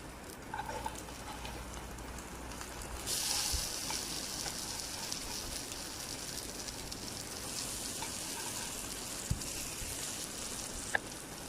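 Oats and semolina adai frying on a pan, a steady soft sizzle and crackle throughout, with a brief brighter hiss partway and a couple of small clicks near the end.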